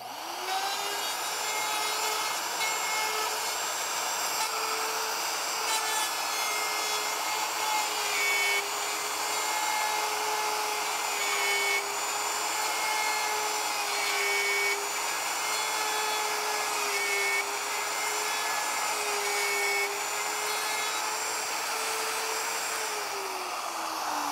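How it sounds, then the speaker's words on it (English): A router bit cuts steadily through wood for a mid-century modern nightstand, a continuous high whine with a rasping edge that holds a fairly constant pitch for a long stretch, loud and close, without talk. "Made the cuts all the way around, and that bit has come to a complete stop now."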